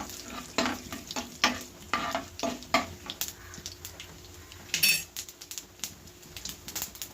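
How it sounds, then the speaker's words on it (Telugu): Two dried red chillies and tempering spices crackling in hot oil, loud irregular pops and spits over a steady sizzle, with a spoon stirring and clinking against the pan. "చిటపట్లాడితే వేగినట్టు అన్నమాట"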